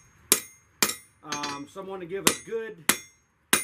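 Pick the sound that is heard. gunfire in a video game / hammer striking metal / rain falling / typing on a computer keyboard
hammer striking metal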